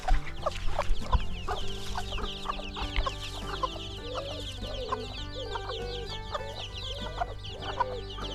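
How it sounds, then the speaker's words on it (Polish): Several chickens cluck and chatter repeatedly in a busy flock, with short rhythmic calls near and far over a low steady background hum. "Zostawiła, zobaczcie, kurczaki."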